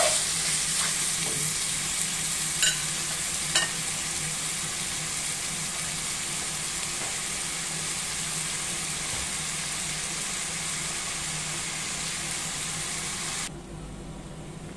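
String beans for adobo frying in a hot pan give off a steady, close sizzle, with a few stirring clicks and taps early on, until the sound cuts off abruptly near the end.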